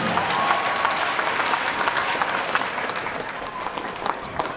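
A large crowd of fans cheers and claps in a rink at a Wednesday-night high school hockey game during school vacation, a loud, dense, continuous roar lasting the whole stretch.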